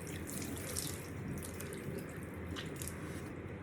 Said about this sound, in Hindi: अब जब इतना कुछ मैं कर ही रही हूँ तो अपना थोबड़ा भी धो ही लेती हूँ।